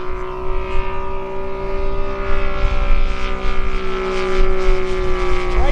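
A radio-controlled 87-inch Seagull Model F4U Corsair with a radial engine flies past at half throttle, a loud, steady droning engine hum with a propeller buzz and a slight pitch shift as it moves, no voices.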